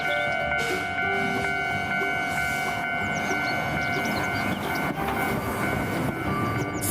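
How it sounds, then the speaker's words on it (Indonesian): A Thomas toy train runs continuously with a steady mechanical whir and a bright, even electronic tone. The sound stays close and unchanging, and no one speaks over it. "Wah, ada kereta api Thomas."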